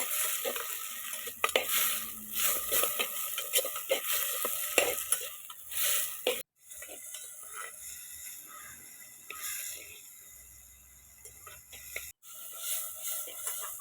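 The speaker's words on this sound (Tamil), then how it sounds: "அந்த மிளகு, சீரகம், பூண்டு, சின்ன வெங்காயம், முடக்கத்தான் கீரைலாம் கொஞ்சம் நல்லா ஒரு அரை பக்குவத்தில் நல்லா வதக்கி எடுக்கணும்" Pepper, cumin, garlic, shallots and mudakathan greens being sautéed in a pan: continuous close sizzling with repeated scraping stirs of a spatula, loud and busy at first, then a calmer sizzle, with no voices.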